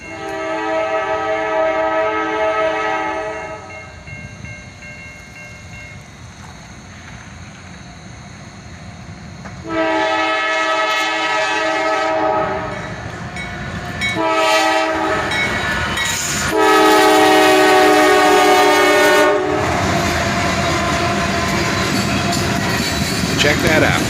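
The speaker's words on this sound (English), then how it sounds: "A CM40 AC rebuild leads, followed by an ET44 AH." A CSX freight train rolls past led by a rebuilt CM40-8 and an ET44AH locomotive, horn blasts sounding in several long bursts over the heavy rumble and rattle of the cars, loud and close.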